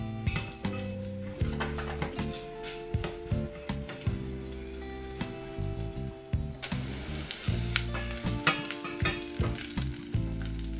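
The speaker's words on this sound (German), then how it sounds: "Mache dann die Zwiebel und Knoblauchzehe mit rein. Und schwenke die ganz kurz an." Onion and a garlic clove frying in a pot for a potato cream soup, a close, steady sizzle broken by repeated knocks and scrapes of stirring against the pot, growing louder and brighter toward the end.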